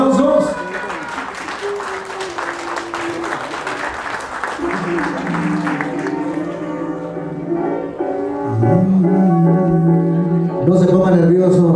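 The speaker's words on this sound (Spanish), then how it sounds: "fuerte los aplausos." Loud clapping from guests at a quinceañera, brisk and dense for several seconds before thinning out as music and voices take over.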